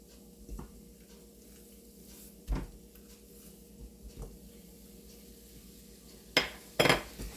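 Jaggery for sukhdi is tipped into a hot pan, bringing soft kitchen clatter and light scraping, then a few sharp clinks and thuds of a bowl and spoon against the pan toward the end.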